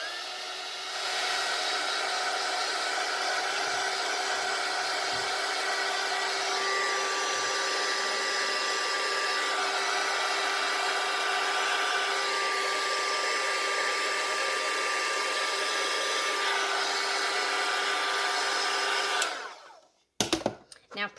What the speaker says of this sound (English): you're going to take your heat tool, and it's really quick, like literally like 4 or 5 seconds.